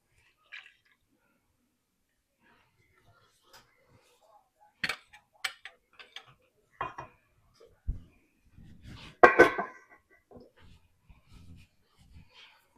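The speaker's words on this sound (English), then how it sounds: "And I'm just going to get everything mixed together. Just still using that Danish dough whisk." Dumpling dough with half and half being stirred in a bowl using a Danish dough whisk, giving faint scattered scrapes, clicks and soft wet squishes against near silence, with a few quiet vocal sounds in between.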